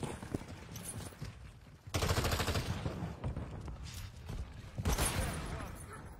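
Machine gun fire in a multiplayer shooter video game, rapid automatic bursts in two loud waves with scattered shots between, mixed with a player talking.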